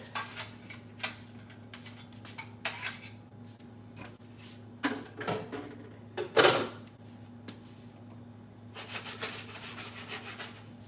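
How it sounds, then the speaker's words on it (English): Garlic and shrimp going into a pan during home cooking, scattered clatters, scrapes and knocks of utensils against cookware, quiet and irregular, with one louder clatter midway and a faint hum underneath. "All right, we'll add our garlic and our shrimp."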